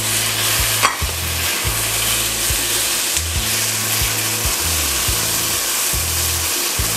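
Tomatoes sizzle and fry in a pan for a chorizo penne pasta, with a spoon stirring and scraping steadily throughout, close and fairly loud, no talking.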